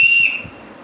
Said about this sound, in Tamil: இது விசில் கிடைச்சிருக்கு ஊதி பாப்போம்